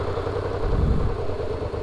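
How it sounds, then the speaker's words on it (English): Motorcycle engine running close to the microphone, a steady low rumble whose revs sag briefly as the clutch reaches its biting point, then settle into an uneven idle-like throb. "Hear the engine? It's quite high and then it goes brrr."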